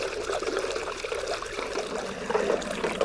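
Warmed rainwater stirred by hand for a biodynamic preparation in a garden, giving a steady close swirling and trickling wash of water with no breaks and no voices.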